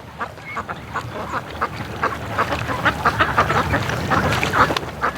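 Ducks on a lake quack in a lively, scattered chorus, with many overlapping calls at varying distances building slightly louder through the stretch.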